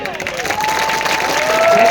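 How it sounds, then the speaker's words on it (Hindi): Crowd at a political rally claps and cheers in a short, loud burst, a rough wash of hands with a voice rising above it. "एक बार जोरदार ताली और बजाइए"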